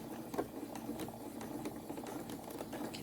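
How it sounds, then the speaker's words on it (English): Sewing machine stitching fabric for a face mask, a steady rapid mechanical whir and chatter running continuously at close range with no speech. "And I'm going to hold on to those threads for a stitch or two, and then we're going to keep sewing."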